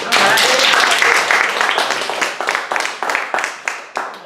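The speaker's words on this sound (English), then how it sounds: "So let's give them a round of applause" A training-session audience claps, starting loud and dense, then thinning into separate scattered claps that fade toward the end, with no talk over it.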